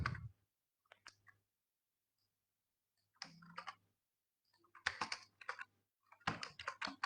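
Typing on a computer keyboard while writing HTML code, with short scattered bursts of key clicks separated by silent pauses, quiet and close.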